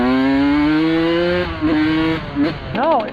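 Suzuki RM125 two-stroke motorcycle engine, running on cheap premix oil, holds a loud, steady high-pitched drone that sags slightly. It then dips and surges in short bursts of revving near the end, close to the listener, with no speech.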